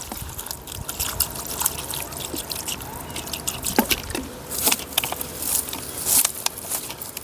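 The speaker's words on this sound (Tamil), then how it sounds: "கறி சுத்தமாக கழுவி எடுத்துக்கலாம்." Water drips and trickles while chicken meat is washed in a village outdoor cooking setting, with close, uneven splashes and small pours in irregular bursts, with no voices.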